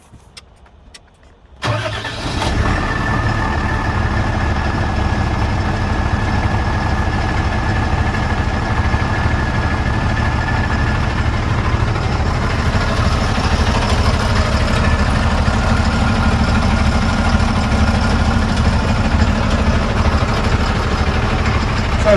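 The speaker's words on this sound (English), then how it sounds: "we can now start the engine, and that will allow us then to operate and use the rest of the equipment on the truck." A lorry's engine cranks and catches after a brief quiet moment, then settles into a loud, steady idle that rumbles on unchanged for about twenty seconds.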